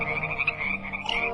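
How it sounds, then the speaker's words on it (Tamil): A chorus of frogs croaks in a dense, overlapping rhythm, loud and close throughout. "கூட்டம் கூட்டமாய் தவளைகள்,"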